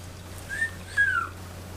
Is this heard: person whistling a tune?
yes